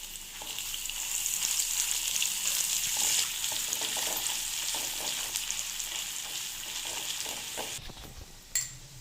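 Garlic paste, curry leaves and chopped green chilli fry in hot tempering oil for a restaurant-style dahi tikhari, crackling and sizzling loudly and steadily before a sudden drop near the end with a final clink.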